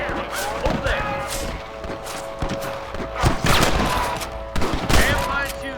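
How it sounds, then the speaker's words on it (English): Scattered gunshots in a Red Dead Redemption shootout, irregular sharp cracks and volleys over several seconds, with voices talking and shouting amid the firing. "Damn fine shooting, boys."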